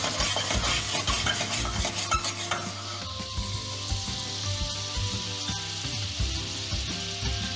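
A honey, butter and soy sauce glaze with a sprig of lavender sizzles loudly in a pan for roast quail, with a continuous close crackle and occasional light clinks of utensils, no voices.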